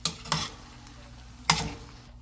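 A spring green carbonara is stirred in a pan, with a few scraping strokes of the utensil over a soft, steady sizzle, close and moderately loud.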